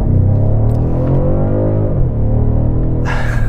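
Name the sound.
2021 BMW M550i xDrive V8 engine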